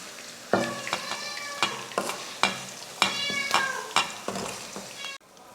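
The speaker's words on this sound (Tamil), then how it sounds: "இந்த மாதிரி தான் நம்ம வறுத்து எடுக்கணும்" Okra pieces frying in hot oil in a pan, a steady close sizzle broken by repeated sharp scraping and clanking strokes of a spoon stirring, with a sudden stop near the end.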